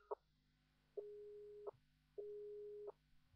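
A telephone tone from The Crooked Man video game after the caller hangs up: a short beep, then two long steady tones of about three-quarters of a second each with gaps between, clear and moderately loud over a faint hum.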